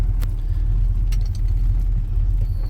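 A warmed-up 1984 Chevy C10 pickup engine idles in a steady, close, low rumble that holds without a break.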